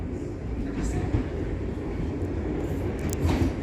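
A Class 323 electric train passes at a station in Stockport, a steady low rumble with faint higher squeals and rattles, fairly close.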